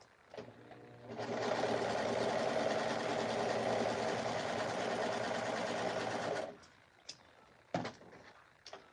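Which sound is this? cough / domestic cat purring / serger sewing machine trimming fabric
serger sewing machine trimming fabric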